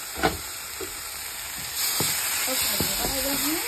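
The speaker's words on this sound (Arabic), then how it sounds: "الخطوة اللي بعد دي بكب اللحمة المفرومة" Minced meat dropped into a hot pan for Sudanese taqliya stew, a sharp sizzle bursting up then settling into a steady frying hiss with faint stirring scrapes.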